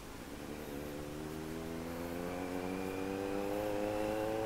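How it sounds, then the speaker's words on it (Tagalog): A car on the road during a ride on a Kawasaki Z900 SE, a steady engine drone with rising tonal hum that grows slightly louder, nearby and continuous. "Kotse ah."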